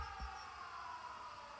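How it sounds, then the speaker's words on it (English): Sirens wail in 13 Sentinels: Aegis Rim, a steady sustained tone held over a faint low rumble, moderately quiet and continuous with no voices. "Not the air raid. The sirens."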